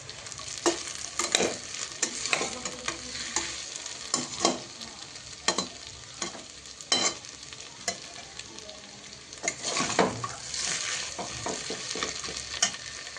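Vegetables for veg biryani sizzle in a hot pan while a spoon stirs and scrapes them, a continuous close frying hiss broken by irregular clanks and stirring scrapes, with no talking.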